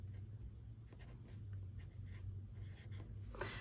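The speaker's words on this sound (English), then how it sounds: "I cannot talk and write at the same time." A pen writes in a paper journal close to the microphone, giving soft, continuous scratching strokes with small pauses over a low steady background hum.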